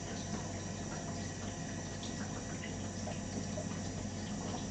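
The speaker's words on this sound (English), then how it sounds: "Just rinse all the chocolate off my hands." Running tap water pours steadily and continuously at close range as chocolate is rinsed off hands at a sink, a constant even hiss with no breaks.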